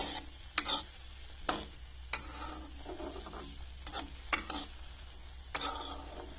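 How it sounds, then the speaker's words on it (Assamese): A spoon stirs a cooking mixture in a pan after khar has been poured in, giving several sharp, irregular metal clinks and scrapes against a low background sizzle. "এইখিনি মিক্স কৰি লওঁ।"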